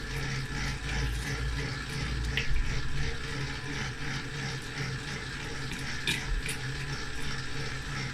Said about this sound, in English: so I add the next amount of water